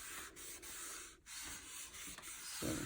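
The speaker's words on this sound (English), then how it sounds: "just take the tissue that I had and give it a good rub all the way around" Tissue rubbed firmly around the surface of a handmade birthday greeting card, a steady close-up scratchy rubbing that continues almost unbroken for a few seconds with brief pauses and no talking.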